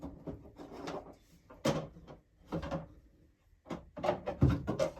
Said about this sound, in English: Why can't I shut the drawer?